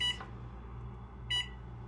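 Kitchen timer being set while making ghee: two short, high electronic beeps about a second apart, faint against a quiet room.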